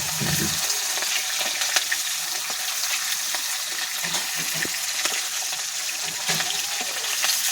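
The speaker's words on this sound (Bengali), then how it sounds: "এটার জন্য ইলিশ মাছটা ভাজতে বসিয়ে দেওয়া হয়েছে" Hilsa fish frying in a pan gives a steady, bright sizzle of hot oil throughout, with occasional soft stirring knocks and pops, close and continuous with no talk.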